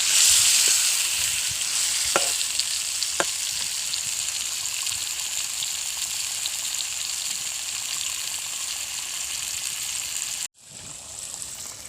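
Chicken tikka karahi sizzles steadily in hot oil in a pan for most of the stretch, with a couple of brief clinks of a utensil, then cuts off suddenly and resumes more quietly near the end.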